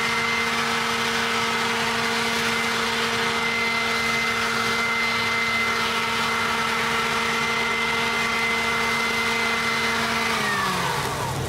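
A cordless two-battery leaf blower runs at high speed with a loud, steady whirring roar and a constant whine, then spins down near the end.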